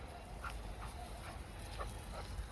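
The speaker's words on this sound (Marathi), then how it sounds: "इकडं वर कुत्री भुकायला लागली" Dogs bark faintly in the distance near a sheep flock on open ground, a few scattered far-off yelps over steady outdoor background noise.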